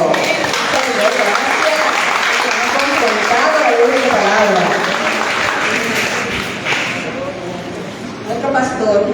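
A church congregation claps together after a sermon. The dense, loud applause holds steady for several seconds, then thins and fades near the end as a voice begins under it.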